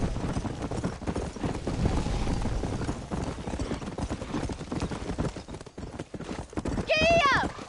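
Horse hooves clip-clopping at a steady trot in the video game Red Dead Redemption, continuous and fairly close, with a horse whinny near the end and talk over the hoofbeats.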